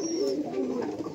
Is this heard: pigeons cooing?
yes